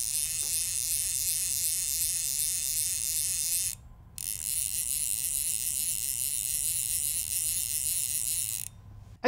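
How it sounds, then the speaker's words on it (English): A Sage Trout fly reel spins steadily, its soft ratcheting click and whir running close and continuous, pausing briefly midway and again near the end, with no talking. "It's definitely not the loudest reel out there, but it's fairly pleasing."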